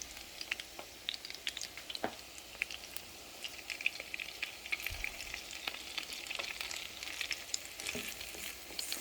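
Salmon croquettes fry in a pan with a steady, close crackling sizzle and scattered pops, continuous throughout with no talking.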